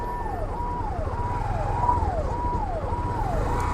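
An ambulance siren wails in steady repeating up-and-down sweeps through a traffic jam on a narrow mountain road in a landslide zone, loud and close over a low rumble of engines and traffic, with no talk.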